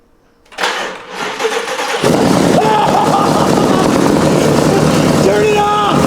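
A BMW M5 engine with no exhaust fitted cranks and fires, then settles into a loud, raw, steady running roar close by, with voices talking over it.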